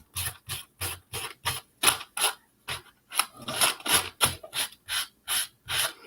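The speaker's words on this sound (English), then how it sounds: "I'm going to take a sandpaper, and I'm just going to trim the edges." Sandpaper rasps along the edges of a wooden flower hanger post in a steady rhythm of short back-and-forth strokes, about twenty close scratchy passes, each one distinct, with no voices.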